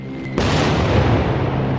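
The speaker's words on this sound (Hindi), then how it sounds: "एक और धमाका देखिए" A pager blast at a market stall in Lebanon, heard as a sudden loud boom that cuts off a quieter scene and leaves a long, broad rumbling tail.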